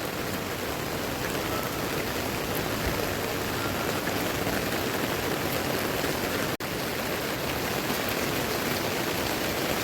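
Heavy rain pours over a waterlogged housing society, an unbroken, dense hiss of falling water that stays level throughout apart from one brief dropout.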